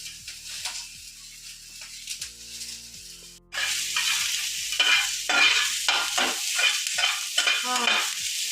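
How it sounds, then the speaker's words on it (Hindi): A pizza base fries lightly in refined oil in a pan, faint at first, then a louder steady sizzle with crackling pops sets in partway through and continues. "हाँ, ये हम हल्का एकरा फ्राई करे छी कम पर"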